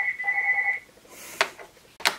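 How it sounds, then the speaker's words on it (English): A telephone rings indoors with a short warbling electronic tone burst, followed by a couple of sharp clicks and knocks in a quiet room. "phone's ringing."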